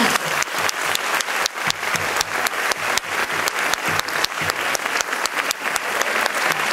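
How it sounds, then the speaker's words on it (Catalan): An audience at a Valencian folk dance performance in Picanya claps loudly and steadily, a dense, continuous round of applause with sharp individual claps standing out throughout. "Un fort aplaudiment."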